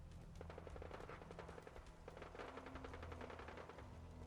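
Automatic turret fire in the video game Fallout 4, a rapid rattling burst of shots that runs on continuously, fairly quiet and distant over a low background hum.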